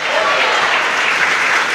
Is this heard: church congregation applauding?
yes